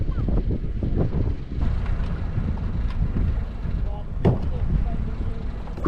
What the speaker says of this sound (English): So as you can tell, the wind's blowing pretty good right now.